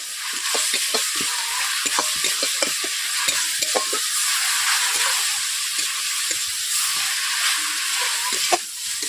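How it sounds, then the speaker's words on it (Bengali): Onion and ginger paste frying in hot oil for a rohu fish curry, a steady close sizzle running throughout with frequent scraping stirs of a spatula against the pan. "পেঁয়াজ আদা বাটাগুলো ব্রাউন হয়ে এসছে"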